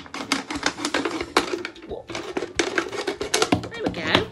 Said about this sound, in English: So I'm going to cut all the way around.